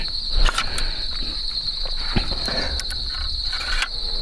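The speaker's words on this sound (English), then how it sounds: "There's all the crickets that started going" Crickets chirp in a constant, shrill drone, with scattered light rustles and clicks nearby; no talking.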